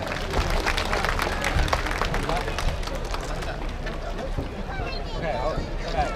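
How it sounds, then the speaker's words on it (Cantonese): Audience applause at an evening celebration gathering for a deity's birthday, a dense patter of many clapping hands mixed with crowd noise and a voice speaking over it. "再一次俾多啲掌聲"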